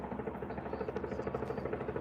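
A helicopter circles over a shooting scene in Salt Lake City, its rotor throbbing in a steady low, pulsing drone, moderately distant and fairly faint, heard alone without talk.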